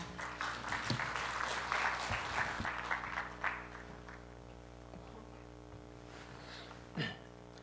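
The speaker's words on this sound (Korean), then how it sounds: "여러분 따뜻한 박수로 맞아주시기 바랍니다." Warm applause in a hall at a Korean SketchUp architecture conference as a speaker is welcomed to the stage. The clapping is fairly faint and steady, fades out after about four seconds, and leaves a quiet hum with a brief throat-clearing near the end.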